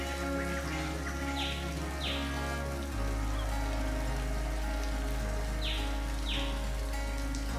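Steady rain falls across the countryside in late spring, a dense even patter that fills the scene, with a few faint bird chirps rising now and then and a low constant hum underneath.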